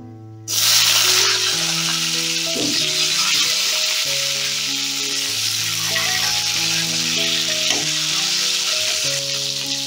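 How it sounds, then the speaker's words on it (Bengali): Tomato dropped into hot tempering oil, a sudden loud burst of sizzling that settles into a strong, steady hiss with occasional stirring scrapes, over soft background music. "এবার টমেটোটা দিয়ে দিচ্ছি।"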